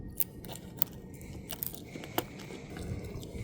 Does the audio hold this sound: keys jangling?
yes